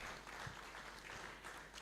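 Applause from an audience at a UN@80 and UNA-Nigeria Day event, a continuous faint wash of clapping heard from a distance with a low hum underneath.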